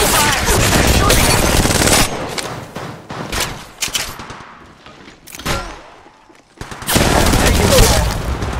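Rapid automatic gunfire from an Apex Legends Mobile firefight, loud dense bursts at the start and end with a quieter lull of scattered shots in between, game voice callouts mixed in.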